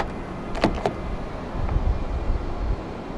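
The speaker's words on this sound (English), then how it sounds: "To lock the car, press the silver button on any of the front door handles." A couple of quick mechanical clicks and a soft thunk as a 2017 Kia Optima's door lock engages from the front door handle button, set against a steady outdoor background hum.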